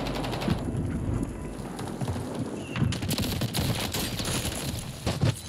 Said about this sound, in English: I stopped shooting because I thought he should have been dead